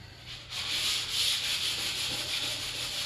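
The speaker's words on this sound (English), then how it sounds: "all I'm doing is going through and sanding over the areas till I can't see them" Sandpaper rubbing back and forth over panel lines on a scale model aircraft fuselage, a steady close-up scratchy hiss with soft strokes throughout, alone with no talk.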